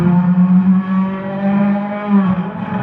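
Rallycross car in a racing game, engine droning steadily with strong harmonic lines that rise and dip slightly as it works through understeer and weight transfer, loud and continuous without talk.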